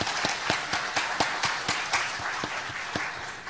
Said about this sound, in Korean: 우리 다시 경로대학 학생들에게 박수 한번 보내주시기 바랍니다